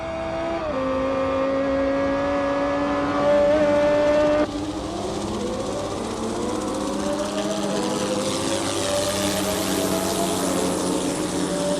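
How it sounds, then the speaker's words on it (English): Car engine sound effects drone and shift pitch, the motor revving and climbing in tone with a sudden change partway, then rising steadily into a high whine as the car accelerates. "After sifting through a number of different car sounds, I eventually found the correct ones, which I believed suited the cars well."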